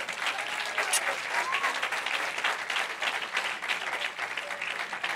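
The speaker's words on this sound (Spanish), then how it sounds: "Dele un aplauso a ellos" A church congregation applauds the camera crew, a steady wash of clapping from many hands filling the room, with a faint voice or two underneath.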